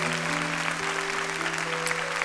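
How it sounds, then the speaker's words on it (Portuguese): A church congregation claps together in praise, a dense steady wash of hands held at even loudness throughout, with sustained organ or keyboard chords ringing underneath. "Aplauda o Senhor bem forte,"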